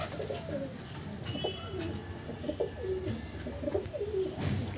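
Pigeons coo in the female section of a loft, several birds giving overlapping low, throaty calls close by in a steady murmur, with a few brighter chirps mixed in and no talking.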